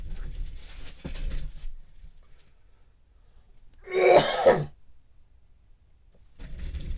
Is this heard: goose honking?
no